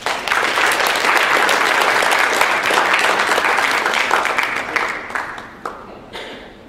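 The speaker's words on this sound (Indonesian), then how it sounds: "Mohon tepuk tangannya, Pak." Sustained applause from the audience at an alumni association seminar on Indonesian culture, loud and dense at first, then thinning into scattered claps and fading near the end.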